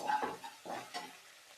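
Ginger garlic paste sautéing in a pan for a masala dish, a few quiet stirring scrapes over a faint low sizzle, brief and close.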